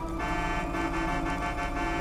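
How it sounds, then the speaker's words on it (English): A car horn in the game GTA 5 blares in one continuous, loud, steady tone that holds for the full two seconds. "they're coming, I'm honking"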